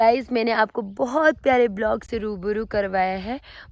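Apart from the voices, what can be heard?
No distinct noise like a dog, phone or traffic.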